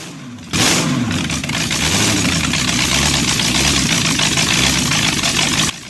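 A 500 horsepower Allen 6S37 oil engine, rated at 375 RPM and installed in 1948 at Welch's Dam fen drainage pumping station, runs loud and close with a steady deep throb after starting abruptly, then cuts off near the end.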